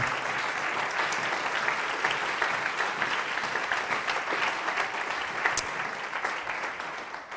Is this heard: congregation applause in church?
yes